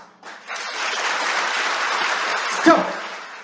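Steady hand clapping from a group in a classroom-style session carries on for about three seconds, dense and continuous at moderate loudness, with a brief louder accent near the end.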